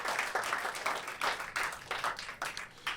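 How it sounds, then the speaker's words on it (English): Comedy-club audience at a stand-up special bursting into rapid, steady applause, a dense run of many hands clapping at moderate volume across the room, with no talking over it. "Give a round of applause for them"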